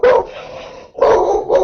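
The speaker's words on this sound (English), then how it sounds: "Hush. there's a big dog." A big dog barks loudly and close by in three heavy, throaty bursts, with a longer first bark, a brief gap, then two more in quick succession at a campsite.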